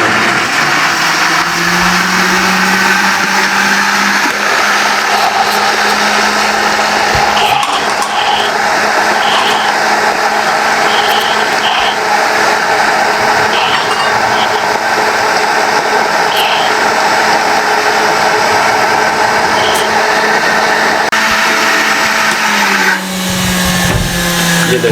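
A heavy blender whirs loudly and steadily as it blends mango smoothie with chilled milk, a continuous close motor drone running almost the whole time before cutting off near the end.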